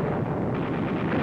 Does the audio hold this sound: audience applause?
no